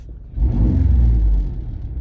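A Ford Ranger pickup truck engine turns over on a cold start and catches, settling into a deep, steady rumble that stays loud and close for the rest of the moment.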